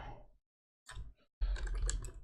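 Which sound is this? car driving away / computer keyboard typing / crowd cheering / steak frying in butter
computer keyboard typing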